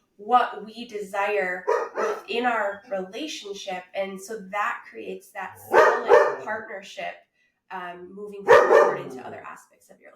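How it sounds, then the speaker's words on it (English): A dog barks a few sharp times in the background while someone talks steadily over it. "I apologize if you hear my dog barking right now."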